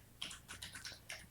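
Typing code on a computer keyboard, a few quick, soft key clicks in short clusters, close and faint with no talking.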